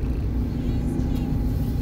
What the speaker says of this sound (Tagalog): heavy traffic